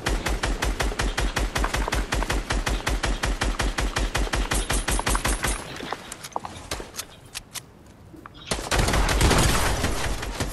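Rapid automatic gunfire in the Fortnite video game, loud dense bursts for about five seconds, then scattered single shots and a lull before another heavy volley returns.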